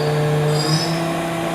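A 2011 Doosan VC430 CNC machining center spindle spinning at 3,000 RPM, giving a steady close whine with fixed tonal hum lines and a slight wobble partway through, alone without voices.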